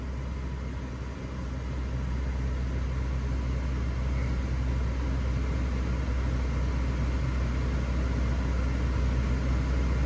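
A car engine held steady at about 2,000 RPM, cruising speed, with a variable displacement AC compressor running: a continuous low droning hum at constant level throughout, with no talk.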